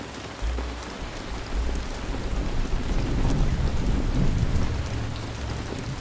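Steady heavy rain hisses throughout a thunderstorm in the city-building video game Ancient Cities, with a deep rolling thunder rumble swelling in the middle and lingering underneath.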